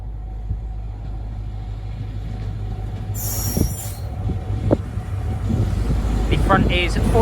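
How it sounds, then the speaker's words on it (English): A Great Western Railway train on the Cardiff Central to Penzance service, with power car 43004 at the front, pulls into a station with a deep engine rumble, building wheel squeal and brief higher squeals, alongside a bit of background voice. "Arriving now is the 1532 Great Western Railway service from Cardiff Central to Penzance."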